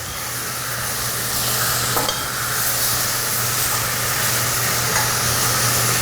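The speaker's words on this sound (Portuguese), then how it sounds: "Eu vou dar uma mexidinha aqui pra gente dar uma olhada" Blended vegetables browning in a pan for a northeastern Brazilian moqueca sizzle loudly and steadily, with a spoon stirring through them and an occasional scrape or tap, heard up close with no talking.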